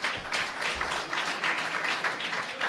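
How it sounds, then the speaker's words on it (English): Students at a high school arts event applaud in a steady patter of many hands clapping together, moderately loud and sustained with no speech over it. "Let's give yourselves a big round of applause"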